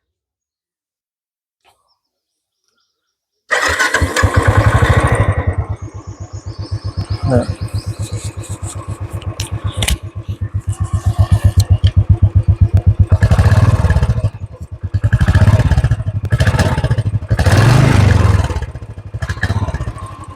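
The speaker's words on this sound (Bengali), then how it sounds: "আর আমি একবার এটার ইঞ্জিনের সাউন্ডটা শুনে নিই।" A 2018 Royal Enfield Classic 350 fires up after a silent pause and settles into a loud, thumping single-cylinder idle, with several throttle blips swelling and falling; a voice briefly speaks.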